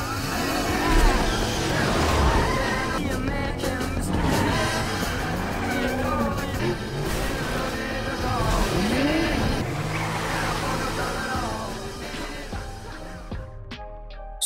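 Getaway cars pull out of a parking lot after a robbery in a heist film scene, engines roaring and tires squealing steadily for several seconds, loud and close, with revs rising and falling under a busy soundtrack.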